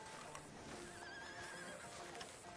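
A horse neighs faintly in the Red Dead Redemption 2 video game, a single drawn-out whinny over a low game ambience with soft hoof clatter, quiet and slightly distant.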